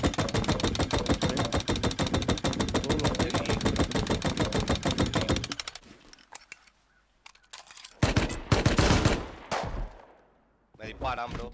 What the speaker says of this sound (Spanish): Me disparan, bro, con el MP.